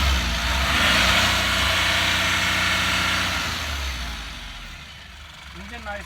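A Bada Dost LS truck with an injector knocking complaint runs nearby, a steady engine drone with a broad hiss that holds for several seconds and then fades somewhat, with voices talking over it.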